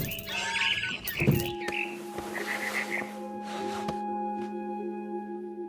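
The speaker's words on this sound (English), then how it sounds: "Then I heard chirping outside my window. It was a barn swallow going back to her nest." A barn swallow chirps outside a window in the video game What Remains of Edith Finch: a short run of bright, repeated tweets over a steady hum of game ambience.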